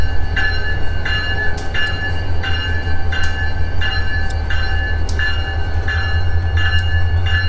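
An old train rolls through the town of Aberdeen, North Carolina, with a loud, steady low rumble and regularly spaced metallic clacks from the wheels passing over rail joints.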